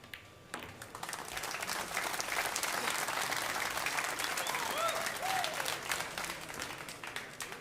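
Sustained applause from a crowd at a 10-ball pool world championship final swells up suddenly and holds as steady, dense clapping for several seconds, with a few faint voices and whistles mixed in.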